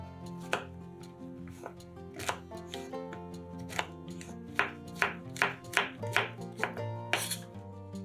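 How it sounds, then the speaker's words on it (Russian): Champignon mushrooms being cut into small cubes with a knife on a board, quiet, uneven chops that pick up into a quicker run of close taps toward the end, with no talk. "250 грамм шампиньонов нарезаем небольшими кубиками"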